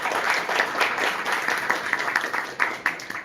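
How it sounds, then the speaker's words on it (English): An audience at a design conference opening keynote applauds itself with a short burst of clapping, dense at first, then thinning into scattered individual claps. "Maybe let's give a small round of applause for all of you."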